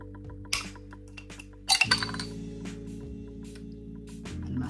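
A glass bottle of Corona Cero alcohol-free beer is handled and opened: a bright clink of glass, then a few short clicks and rattles, close and fairly quiet over a low steady background hum.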